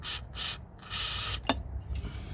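An aerosol can with a small nozzle sprays in short hissing bursts into the intake of an R33's engine, close and fairly quiet, with a brief tap partway through.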